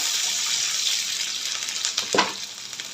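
Crushed garlic and green chillies fry in hot oil with a dense, even hiss that swells slightly near the end with a brief scrape, close and steady, with no voices.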